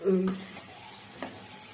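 Tomatoes sautéing with liver in a pan for a liver gravy, a soft sizzle with a couple of scraping stirs of a utensil against the pan, fairly quiet and close.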